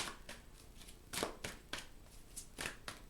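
Tarot cards are shuffled in several quick riffles, crisp papery bursts separated by short pauses, close up and fairly quiet.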